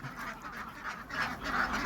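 Ducks quack repeatedly in a bursty, overlapping chorus, fairly close, with a steady farmyard murmur underneath.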